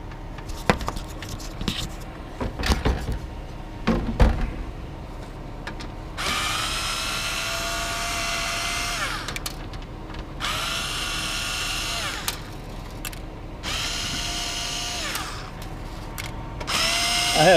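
Power drill unscrewing screws from a scrapped item in New Jersey, running in several loud whining bursts of a few seconds each, separated by handling clatter and short pauses.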